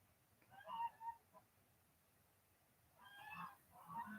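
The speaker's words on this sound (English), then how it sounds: "Uh-oh, them geese done fired up next door." Geese at a neighboring property break into honking, a few faint, distant calls, a pause, then another round of honks.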